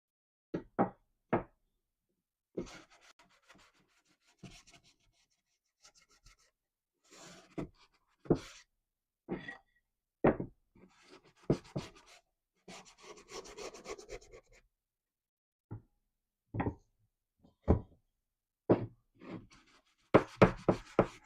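Hand sanding on bare redwood: intermittent scratchy rubbing strokes with short pauses and occasional knocks, close and fairly quiet, no talking.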